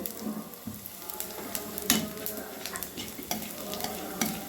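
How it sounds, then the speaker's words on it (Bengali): Nigella seeds, dried chilli and a torn bay leaf sizzle steadily in hot oil while being stirred, a continuous crackling fry with occasional sharper spatters and scrapes, close and alone without speech. "আর ফোড়নটা খুব ভালোভাবে আমি ভেজে নেব।"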